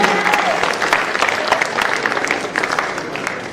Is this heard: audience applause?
yes